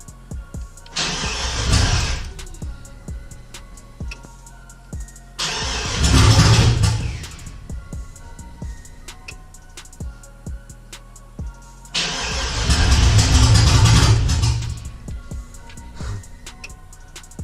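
An LS-swapped 1992 Chevy truck with an untuned engine cranks in three separate loud bursts, each a few seconds long with a rough, sputtering turnover that nearly catches, separated by quieter pauses.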